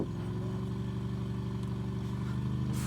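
A van engine in the video game RV There Yet drones steadily at full throttle, a constant low rumble with no breaks throughout.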